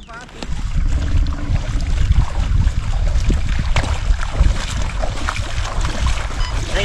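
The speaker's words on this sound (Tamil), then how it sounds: "ஆமாடா நல்லா இழுத்து போணுச்சுடா காற்று." Wind rushes steadily over a homemade balloon-powered toy air boat on water, a loud continuous blustery roar with buffeting against the microphone and faint background voices.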